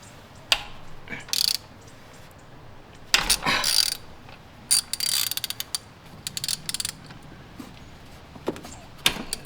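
A ratchet on an 8-inch extension clicks in short bursts while it loosens spark plugs on a 2014 Toyota Tacoma, with quick ratcheting runs broken by pauses and small metallic knocks close by.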